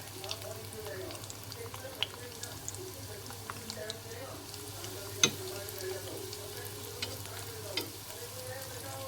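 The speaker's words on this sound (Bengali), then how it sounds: "একসাথে অনেকগুলো বল ভাজা যাবে একসাথে করে" Potato cheese balls fry in a pan as a low, steady bubbling sizzle, quiet and close, with a few soft clicks and knocks now and then.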